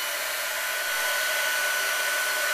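A hair dryer fitted with a diffuser attachment blows in a steady, loud whoosh with a faint high whine, running continuously and close with no voices.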